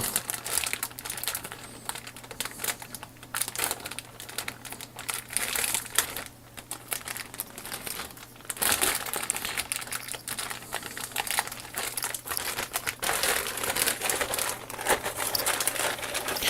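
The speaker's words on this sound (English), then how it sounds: "One big bag with the rest of it in, so I'll just take the staples out of this as well." A plastic bag of Tamiya Toyota Castrol Celica WRC 1:24 model kit parts crinkles and rustles close up in bursts of handling as its staples are pulled out, with short pauses between bursts.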